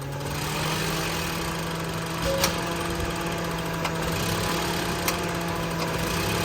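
A car engine idles lean with a vacuum leak, a steady low hum with a faint uneven roughness and a few small ticks, close and without talk.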